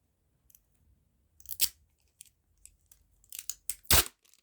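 Short sharp bursts of tape ripping and unrolling from a roll during a trash-craft journal cover project, several quick tearing strips close up amid near silence.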